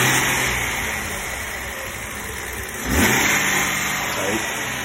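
A Datsun 240Z engine idles and then roars briefly as it revs up, settling back to a steady hum, fairly close.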